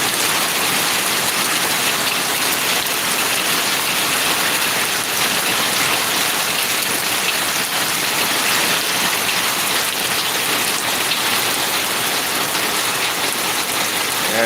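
Heavy rain pours steadily outdoors, a dense, loud, even hiss of drops on surfaces that continues without a break.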